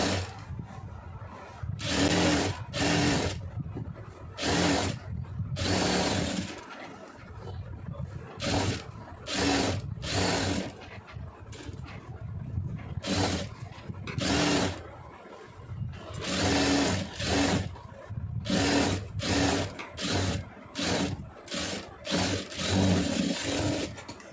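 Sewing machine running a stitch along a fabric edge while sewing a star neck and pa neck, in repeated short bursts of motor whirring separated by brief pauses, close and fairly steady.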